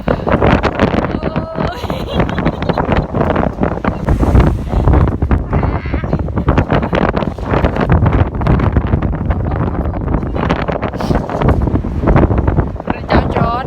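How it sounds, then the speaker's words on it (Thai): Strong, cold storm wind buffets the microphone in heavy, continuous roaring gusts outdoors, loud and rumbling. "ลมแรงมาก แล้วเป็นลมที่ไม่ได้มาเฉพาะลมอย่างเดียวนะคะคือมาพร้อมกับความเย็นเยือกนะคะ"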